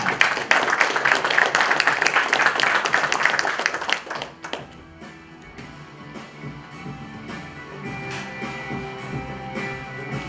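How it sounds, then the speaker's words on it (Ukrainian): An audience applauds a fighter at an MMA Pro Ukraine 11 weigh-in in Chernivtsi: dense, loud clapping for about four seconds, then it fades to a quieter hall murmur with scattered taps. "І ще більше оплесків його супернику з міста Чернівці"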